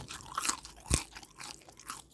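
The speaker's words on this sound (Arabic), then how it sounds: "سامعين قرمشتها" Crunchy fried zalabia (luqmat al-qadi) is chewed close up, giving several sharp, crisp crunches with a loud bite near the middle and softer munching around it.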